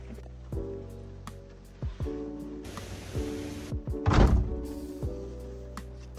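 Someone shuts the door of a small Fiat Doblò motorhome on a rainy day, giving one solid thunk with a short rattle. Before it come softer knocks and rustling over a steady background hum.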